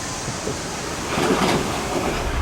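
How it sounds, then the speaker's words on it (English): A New York subway train rumbles into a station in Harlem near 125th Street, a steady roaring wash that swells louder midway as it arrives, with no talk. "Here comes the train."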